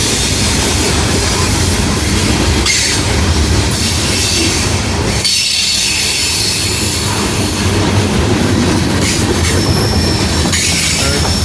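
A freight train of loaded grain cars rumbles steadily past close by, with heavy wheel noise, clanking cars and occasional high metallic squeals throughout.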